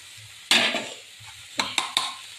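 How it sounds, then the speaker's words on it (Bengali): Minced chicken frying with spices in a pan, stirred with a utensil: a soft sizzle underneath sharp scraping strokes, one long stir followed by three quick clinks and scrapes. "চিকেন কিমাটাকে মশলার সঙ্গে নেড়ে দেবো,"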